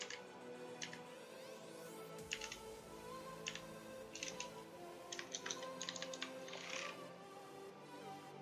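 Someone types on a computer keyboard at close range, with irregular bursts of quick key clicks separated by short pauses, alone against faint background hum.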